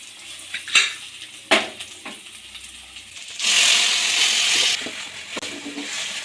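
Coriander and mint fry in a pan for an onion mutton boti fry, a close steady sizzle with a louder hissing burst midway and sharp utensil taps and stirring scrapes throughout.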